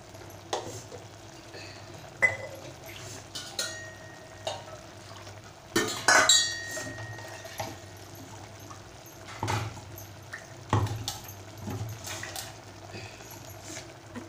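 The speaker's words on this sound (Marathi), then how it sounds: "आता ह्याच्यामध्ये वाटणामध्ये मी पाणी घालून मी आता ह्याच्यात घालत आहे" Water is poured into ground masala paste for a Malvani-style chicken curry in a home kitchen, giving brief splashing pours, light stirring and scattered utensil clinks over a soft background hiss.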